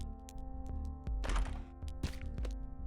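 Chest opened in The Binding of Isaac video game, a dull thunk with a brief rattling burst, set among light repeated clicks over a steady hum of game music.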